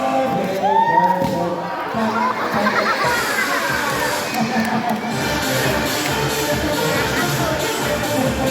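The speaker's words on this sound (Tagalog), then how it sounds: "Kailangan palakpak tayo muna." A crowd at a Bicol community gathering cheers and shouts, a dense, lively roar with whoops and children's voices sustained throughout, clapping blended into the noise.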